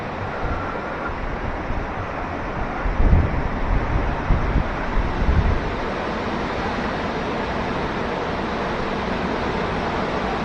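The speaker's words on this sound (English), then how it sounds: "Very windy." Steady, roaring wind buffets the microphone throughout, with a louder gusty stretch in the middle before settling back to a constant rush.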